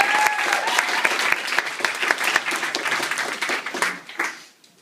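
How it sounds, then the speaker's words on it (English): Wedding guests break into loud, dense applause for the speaker's three children as they stand, with some whoops and a few voices over the clapping before it tapers off near the end. "Give them a round of applause."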